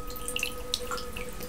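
Water dripping from an absinthe fountain into a glass of absinthe, small irregular drips and splashes, close but soft over a steady background hum.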